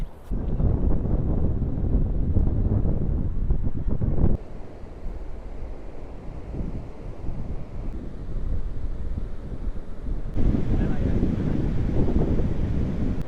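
Sea waves roll in at Henry Island beach under strong gusting wind, a loud continuous roar buffeting the microphone, easing briefly in the middle before surging again.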